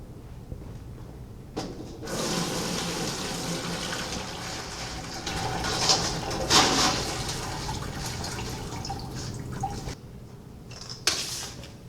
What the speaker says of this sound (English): you have to carefully decant the excess water.